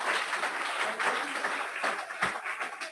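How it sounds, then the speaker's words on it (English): Steady round of applause from an audience at a Rotary Club weekly meeting in Las Vegas, a dense wash of many hands clapping throughout with a faint voice underneath. "and your past presidents a big round of applause"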